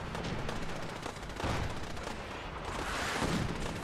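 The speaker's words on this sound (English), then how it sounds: "Here comes the artillery coming in." An incoming artillery barrage in Fallout 4 rumbles as a dense, continuous wash of booms and crackling gunfire, loud and sustained throughout with no talk.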